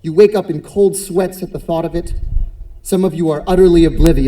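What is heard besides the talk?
No distinct noise like a dog, phone or traffic.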